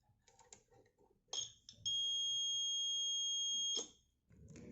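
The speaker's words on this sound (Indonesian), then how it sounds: "maka limit switch akan tertekan dan buzzer akan mengeluarkan suara seperti ini" A home security system buzzer, triggered when a door presses its limit switch, sounds one steady high electronic tone for about two seconds. Faint clicks and handling noises come just before and after it, close to the microphone.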